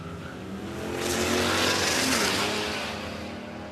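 A Falcon and a Chrysler launch off the start line at a no-prep drag strip in Australia, engines roaring and swelling to a loud peak as they pass, then fading away.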